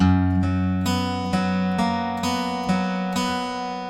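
A guitar picks a steady arpeggiated pattern from a song, starting on the sixth string, with evenly spaced plucked notes ringing into one another, close and clear with no voices.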